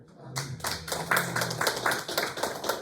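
A church congregation claps in praise, sharp clustered handclaps starting after a short pause and falling into a fairly regular rhythm, close and clear, with a brief low voice at the start.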